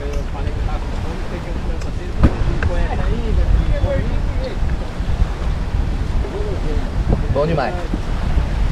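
Gusty wind buffets the microphone at a campsite on the Paraná River, a constant low rumble under a few brief spoken words and scattered voices.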